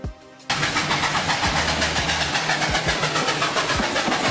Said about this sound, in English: The locomotive is the engine part of the train that pulls the carriages behind it.